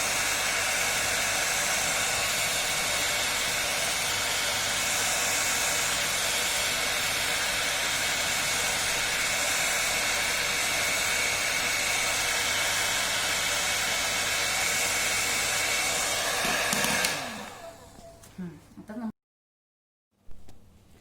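A hair dryer heating a decoupage candle blows with a loud, steady whooshing roar for most of the time, then switches off, leaving brief scattered handling noises.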